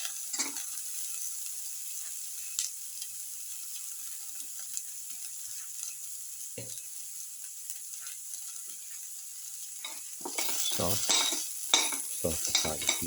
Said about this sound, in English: Put in the garlic piece.